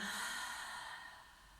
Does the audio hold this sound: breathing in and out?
yes